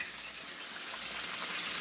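Water in a sink full of hot soapy dishwater, a quiet, continuous hiss and trickle like a running tap with no breaks and no voices.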